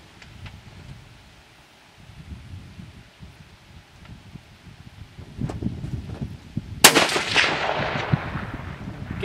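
A precision rifle fires a single sharp shot at a golf ball 750 yards away, cracking loudly out of quiet wind and rustle, followed by a brief rolling echo.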